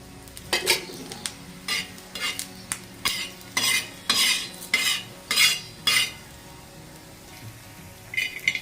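Coriander seeds dry-roasting in a pan with a little oil for a village-style drumstick pod curry, stirred with a spoon: about ten close, rhythmic scraping strokes with light rattling between them, and no talking.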